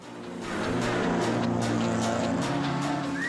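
A vintage Seat Fiera Chrono rally car with a 75-horsepower engine and 700-kilo curb weight, driving on a classic Monte Carlo Rally route: a loud, steady engine drone rises within the first half-second and holds strongly throughout.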